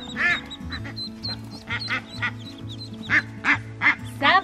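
Ducks quack in loud repeated bursts, with high peeping from a brood of seven newly hatched ducklings, close by and alone with no talk.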